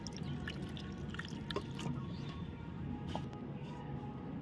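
Faint running and trickling water as roasted eggplant is rinsed while its skin is peeled, with soft splashes and drips close by and no speech.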